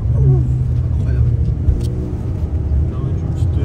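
Golf 6 GTI Stage 2 accelerating, a steady low engine and exhaust drone heard from inside the car, loud and continuous with faint voices in the cabin.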